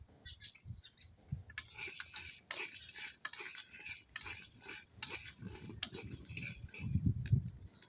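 A metal spoon scrapes and clinks in a dry, hot pan while whole spices such as cumin and bay leaf are dry-roasted, with irregular light stirring taps and a faint low sizzle growing toward the end.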